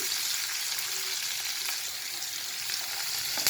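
Chopped carrots frying in a pan for chire polao (poha pulao), a loud, even sizzle with soft stirring scrapes running throughout, no talk.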